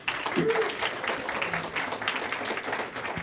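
A congregation gives another round of applause for guest musicians at a morning service, a moderate, steady clapping that continues throughout while voices murmur underneath.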